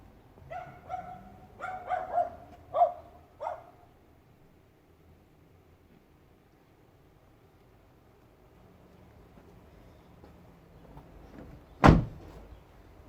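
A Nissan Qashqai 2.0i 140 hp driver's door shuts with one sharp, loud thud near the end, after a few dog barks early on and a quiet stretch in between; no one speaks.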